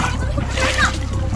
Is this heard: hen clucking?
no